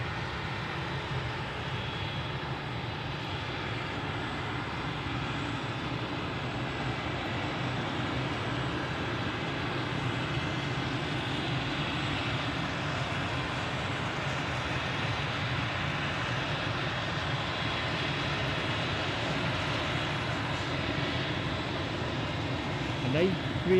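Airbus A380-800 landing at Glasgow airport: a steady, continuous jet engine roar that stays loud and broad from start to finish, with no break or change in level.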